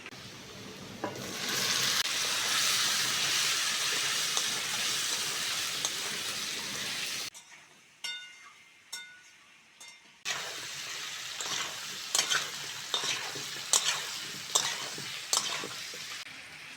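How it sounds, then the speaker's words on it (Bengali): Elephant foot yam pieces frying in oil in a pan: a loud, steady close sizzle, a brief near-silent gap, then sizzling resumes with repeated sharp scrapes and knocks of a spatula stirring. "ওলার আলুটা ভালো করে ভেজে নিয়েছি"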